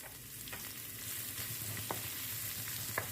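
Onions, green chilies and garlic fry in olive oil for lal shak bhaji, giving a steady close sizzle with a few sharp crackles and pops and no talking.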